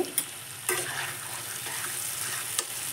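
Chicken sizzles steadily in a hot pan while a utensil scrapes and stirs, with a few sharp clinks near the start and end.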